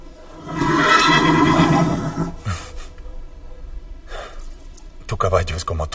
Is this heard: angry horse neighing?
yes